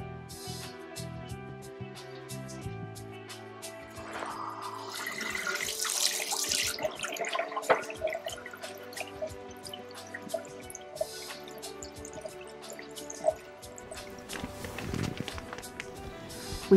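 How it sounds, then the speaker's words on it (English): Tap water runs steadily into a sink as hands are washed before a sterile urinary catheter care procedure, with splashing and dripping layered over a constant flow. "Okay, I'm gonna go wash my hands."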